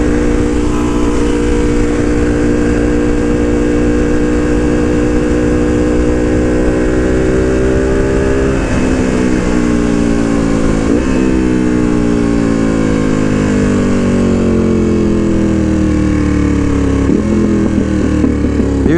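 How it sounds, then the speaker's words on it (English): A Ducati Panigale V2 with a Vandemon full exhaust and dB killers, ridden while downshifting: a loud, continuous twin-cylinder roar with pitch stepping and sweeping up and down through gear changes, heard up close from the rider's position. "You're seeing nothing but flames shoot out of that pipe when it's downshifting and popping like that."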